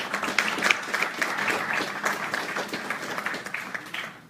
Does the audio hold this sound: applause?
yes